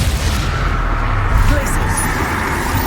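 A Confringo fire spell explodes in Hogwarts Legacy, a loud booming blast that lands with a thump midway through a steady rumble of game noise and effects.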